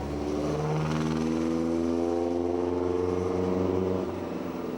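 A vintage 4.5-litre Bentley racing car climbs a mountain hill climb course, its engine a loud, close, rising drone that climbs in pitch through the gears before easing near the end.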